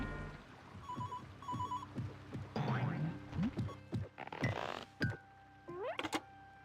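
A telephone rings in the Creature from the Hidden Ocean video game, with repeated short electronic trill bursts alongside bouncy boing-like game effects and no talking.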